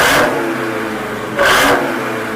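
Dodge Challenger exhaust in track mode, two sharp loud revs blipping up and falling back a second apart, heard close with a low burbling idle between them.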